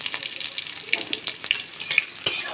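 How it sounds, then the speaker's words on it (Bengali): Five-spice seeds and green chillies fry in hot oil while being stirred, making a close, continuous crackling sizzle with frequent small sharp pops. "নাড়াচাড়া করে ফোড়নটাকে ভেজে নেব।"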